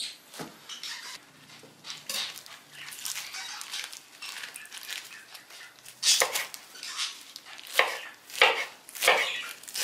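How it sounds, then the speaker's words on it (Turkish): Spinach roots chopped with a knife on a cutting board, a run of quick, uneven taps and thuds that grow louder and sharper toward the end. "Kök kısımlarından da az bir şey doğradım."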